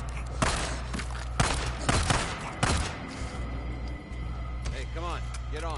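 Several sharp pistol shots crack out in quick bursts in the video game Days Gone, alongside other game effects, with someone talking over the action.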